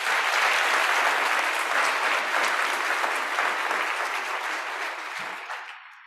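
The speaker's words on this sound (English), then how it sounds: "so can we please give them a round of applause?" An awards ceremony audience gives a sustained round of applause for vendor partners, dense and even at first, then thinning and fading out near the end, with no talking.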